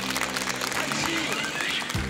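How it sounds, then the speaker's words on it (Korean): A studio audience of a KBS variety show applauds to welcome guests back from volunteer work, with dense, steady clapping underneath people talking. "박수로 환영해 주십시오"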